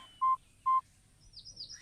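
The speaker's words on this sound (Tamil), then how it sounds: "சீக்கிரம் ஃபோன் போடு." Two steady, evenly spaced dial-tone beeps from a telephone being dialed, each about half a second long, sounding alone over a quiet background with faint later noise.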